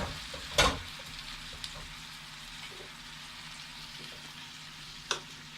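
Pre-cooked beef frying in a pan for a Kerala-style beef fry, a low continuous sizzle with a couple of sharp spoon scrapes, one early and one near the end.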